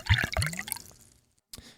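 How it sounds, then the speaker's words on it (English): Basil Hayden 10 year bourbon is poured into a glass in a couple of quick splashing glugs, then a fading trickle and a brief final drip, close and clear. "let's pour it out, man"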